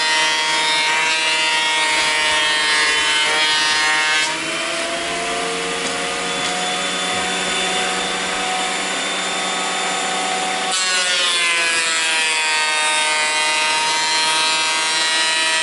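A cheap planer runs a lumber board through, a loud, continuous high-pitched whining drone with a shift in tone as the cut starts and ends, close up and steady.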